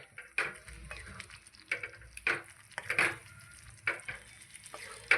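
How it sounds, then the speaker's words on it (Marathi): Ground chickpeas go into a sizzling pan of spicy chole curry and get stirred, with repeated scraping strokes over a steady frying hiss, close and fairly loud, no voices. "आपण छोले वाटून घेतले होते ना ते यामध्ये टाकून घेणार आहे"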